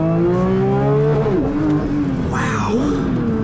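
A high-revving 2024 Porsche 911 GT3 engine screams steadily upward toward 9,000 rpm in first gear, its sharp harmonic whine climbing and dipping briefly, with a voice faintly mixed in.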